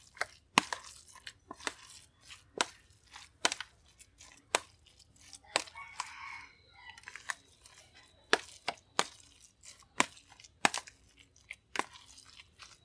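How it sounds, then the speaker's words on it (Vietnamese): Seasonings being stirred into vegetarian steamed tofu-egg ingredients, giving close, sharp repeated scrapes and clicks of a utensil against a bowl in an uneven rhythm, with a brief softer rustle in the middle. "Rồi mình trộn cho đều nha các bạn."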